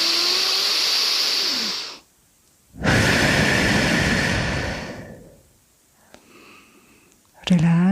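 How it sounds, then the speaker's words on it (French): A deep, audible breath during a guided sophrology relaxation session for the neck, with a long airy inhale and exhale heard close and fairly loud, set between stretches of a calm voice. "je vais effectuer une vaste respiration"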